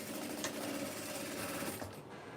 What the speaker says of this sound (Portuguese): E eu vou costurar a parte interna aqui, tá bom?